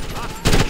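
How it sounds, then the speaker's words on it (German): Gunfire bursts from the Xbox 360 game Ghost Recon Advanced Warfighter, a loud cluster of rapid shots cracking out midway through, with the sound of a combat scene carrying on before and after. "Da schießt jemand"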